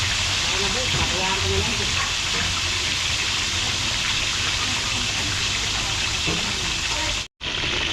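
Tilapia fish slices fry in hot oil, giving a loud, steady sizzling hiss that continues evenly, with brief faint talk early on and a sudden cut near the end.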